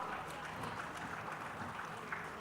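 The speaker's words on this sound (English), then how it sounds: "With a big round of applause" Faint audience applause in a large hall at a diaspora conference, a continuous soft patter of many hands clapping with no break.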